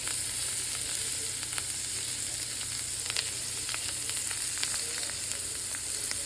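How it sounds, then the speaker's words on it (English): Chanterelle mushrooms frying in butter in a pan, an even close sizzling hiss with light scattered crackles and occasional stirring taps throughout. "Add your butter and let that butter mix around."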